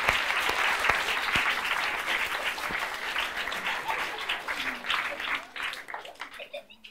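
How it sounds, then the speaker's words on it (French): Audience applause at a live improvised storytelling show in France, dense and fairly loud at first, then thinning out as voices begin to come through near the end. "Et on peut l'applaudir, s'il vous plaît."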